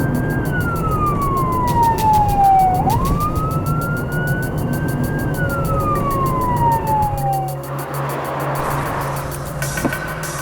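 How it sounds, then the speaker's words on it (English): A UK traffic police car sounds its siren: a loud wailing tone sweeps down and up in long glides, then cuts to a brief burst of noise, over steady road and engine rumble. "we'll give him a blast on the siren."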